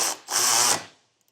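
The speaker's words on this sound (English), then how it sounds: "I'm going to use a 16mm socket and then a 15mm wrench to hold the nut" A power tool drives a 16mm socket to tighten a bolt while installing a Westin running board kit, two quick close whirring bursts, the second longer, then silence.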